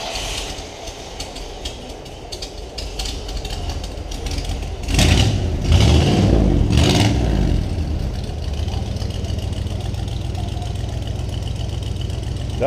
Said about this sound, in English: Here's the first fire up.